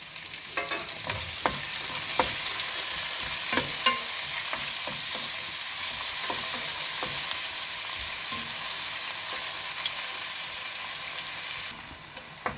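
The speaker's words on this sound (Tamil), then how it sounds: "இது முக்கால்வாசி வதங்கினா போதும் இந்த தக்காளி பழம்" Sliced tomato sautéing in a pan for a tomato rice dish, giving a steady close sizzle with frequent clinks and scrapes of a spoon stirring throughout, then quieting slightly near the end.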